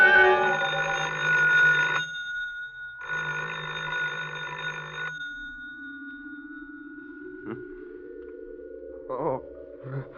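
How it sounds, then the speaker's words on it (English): A telephone rings in two long bursts as a radio drama sound effect, loud and alone, followed by a low sliding tone and faint clicks. "I thought I heard the phone."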